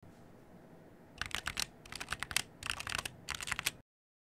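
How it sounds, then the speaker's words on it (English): Typing on a SteelSeries Apex Pro mechanical keyboard, close up: quick bursts of crisp, clacking key presses in several rapid runs separated by short pauses, then sudden silence. "I will quickly move the mic closer to the keyboard so that you can hear what the key presses sound like."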